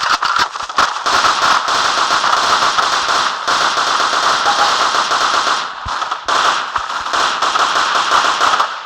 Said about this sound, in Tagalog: Kailangan natin ng machine gun, guys. Let's deploy machine gun.